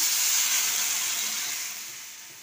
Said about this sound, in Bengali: এবার এতে আমি জল ঢেলে দিলাম